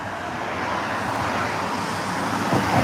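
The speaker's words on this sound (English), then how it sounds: "It's just so much traffic here." Steady road traffic rumbles and hisses at an accident scene on a Florida roadway, a continuous wash of passing vehicles with a slight swell near the end and no voices.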